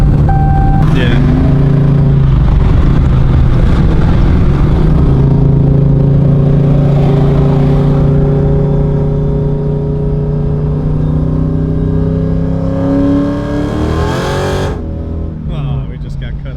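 A Hellcat with a TH400 transmission making hard acceleration pulls, a loud, close engine roar rising steadily in pitch through the run, then dropping off near the end, with voices over it.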